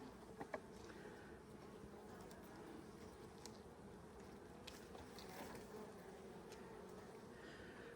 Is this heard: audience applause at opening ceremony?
no